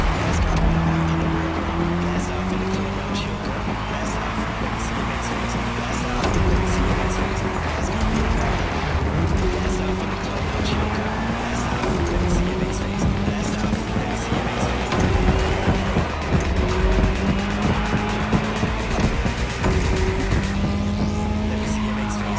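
Race car engines roar in a cross-terrain race in The Crew Motorfest, with steady, loud engine drones rising and falling through gear shifts, tire squeal and skidding mixed in, and a voice talking over the racing throughout.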